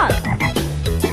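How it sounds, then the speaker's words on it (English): A frog croaking in a rapid series of short, throaty calls, loud and close, with no other sound around it. "Green, like a frog."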